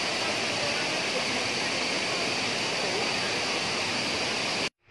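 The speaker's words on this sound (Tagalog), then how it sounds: "Ito yung Hinulugan Falls mga tol." Hinulugan Falls in Tapaz, Capiz roars as a dense, steady wash of falling water, loud and continuous until it cuts off abruptly at the end.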